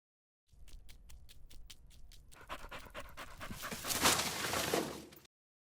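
A dog pants steadily and close by, with rhythmic breaths that grow heavier and louder toward the end, with no talking.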